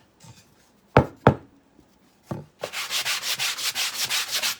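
Sandpaper rubbed over a 3D project surface in a garage: a few separate scraping strokes, then a steady run of rhythmic back-and-forth sanding, close and fairly loud.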